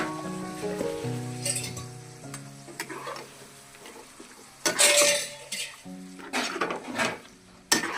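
Chicken stirred in a hot pan with chili powder and cumin for a Bengali-style chili chicken, sizzling steadily with metal utensil clinks and scraping bursts up close, no voices.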